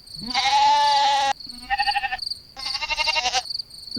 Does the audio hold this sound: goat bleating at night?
yes